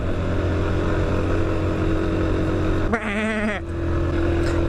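A person imitates a sheep with a short, wavering bleat that rises above a steady engine rumble, likely from a Unimog, and then fades back into it.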